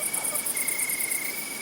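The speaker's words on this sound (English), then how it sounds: "the crickets begin to sing." Crickets chirp at sunset in a continuous shrill pulsing trill, loud and close, with a fainter steady tone beneath it.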